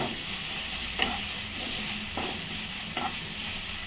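A potato vegetable filling for batata vada sautés in a small amount of oil, with a constant close sizzle and a few spatula scrapes and stirs spaced about a second apart.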